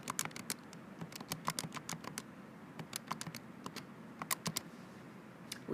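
Fingers tap numbers into a calculator in rapid, uneven bursts of crisp, light clicks, fairly quiet and close, with short pauses between runs. No speech.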